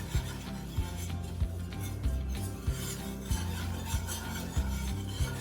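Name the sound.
stirring flour into melted butter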